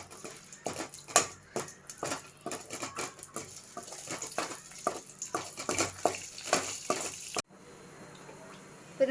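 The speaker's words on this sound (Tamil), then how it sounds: "இந்த நெய்யில் இந்த 2ஐயும் நம்ம வறுத்து எடுத்துக்கலாம்" Cashews and raisins frying in ghee in a pan, with a busy crackle and spattering patter and intermittent stirring, fairly close, running steadily before cutting to a quieter background.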